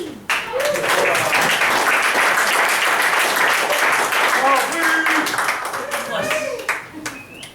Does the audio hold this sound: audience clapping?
yes